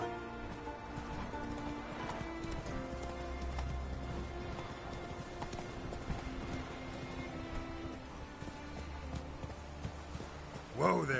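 Roach the horse galloping in The Witcher 3, a steady rhythmic clip-clop of hooves running throughout over ambient game music, with a brief louder sound at the end.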